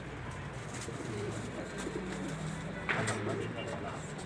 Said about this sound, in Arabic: فرد حمام جامد يا جماعه، بس مشخر طينه